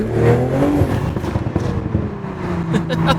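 A modded Toyota Supra's exhaust burbles and crackles as the car drives along at low speed, a loud, uneven rumble with intermittent pops and a brief voice in the background.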